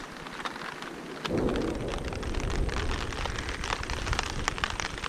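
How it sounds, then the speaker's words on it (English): Thunder rumbles low and heavy through steady November rain at a rainy campsite, swelling in after a brief stretch of pattering drops and rolling on beneath the downpour. "Looks like we got some thunder and lightning now."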